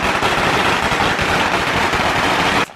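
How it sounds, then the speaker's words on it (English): A long string of firecrackers explodes at a seaside sea spirit ceremony in Hua Hin, Thailand, a dense, loud, unbroken crackling barrage close by that cuts off abruptly. "As soon as all the firecrackers blasted and filled the seaside with smoke and red debris"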